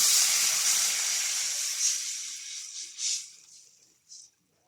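Broth poured into a hot pot for fried tilapia soup, giving a loud steamy hiss and sizzle that gradually fades, with a few short bursts of bubbling toward the end.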